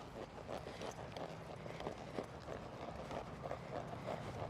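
A horse jogging over an obstacle on a ranch trail course gives a continuous run of fairly faint, rhythmic hoofbeats on the ground, with some outdoor background noise.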